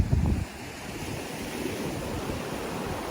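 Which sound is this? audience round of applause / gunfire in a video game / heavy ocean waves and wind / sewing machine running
heavy ocean waves and wind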